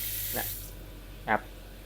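A two-way kitchen sink faucet on a home water-pump supply gives two short, forceful bursts of spraying water. Each burst is a separate hiss against a quiet background.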